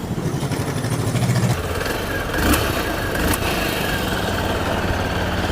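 A TVS Sport 110cc motorcycle idles with a steady, close exhaust putter, briefly blipped twice with short throttle rises before settling back to an even idle.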